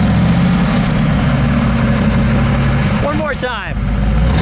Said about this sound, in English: All right, let me hear a little rev if you don't mind.